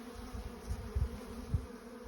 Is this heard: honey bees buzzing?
yes